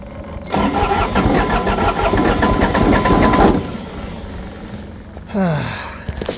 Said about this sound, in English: Gotta love that diesel until it doesn't start.